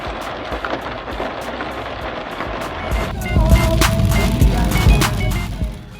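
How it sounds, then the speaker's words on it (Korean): Steady rain falls on a Las Vegas street, a dense wash of patter and splashing that grows heavier and closer midway before easing at the end, with no voices. "비가 안 내리는 곳이니 우산이 있는 사람들이 별로 없어 이럴 땐 비를 맞으면서 많이들 걸어갑니다."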